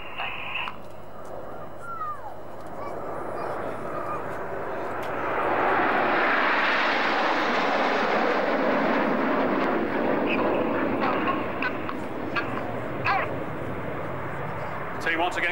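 Red Arrows jets flying in formation at an air display produce a broad, rushing roar that builds to a loud peak midway and slowly fades, while a commentator speaks steadily over loudspeakers.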